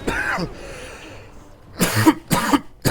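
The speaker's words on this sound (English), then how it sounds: "Excuse me for the cough." A person coughs several times during a Dragon Age Origins gaming session. A couple of harsh bursts come first, then a quieter stretch, then more close, sharp coughs near the end.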